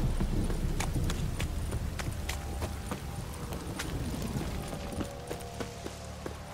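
Steady clip-clop of horse hooves trotting at a quick, regular pace in The Witcher 3: Wild Hunt, fairly close, with a low rumbling background throughout.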